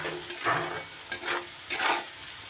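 Finely chopped onions with a pinch of salt fry in a pan of hot oil. A close, continuous sizzle swells in three bursts as the onions are stirred.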